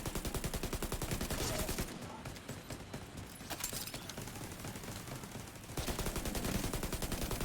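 Rapid automatic gunfire in a shooter video game, dense rattling bursts that ease into scattered shots mid-stretch before heavy sustained fire resumes, loud and close.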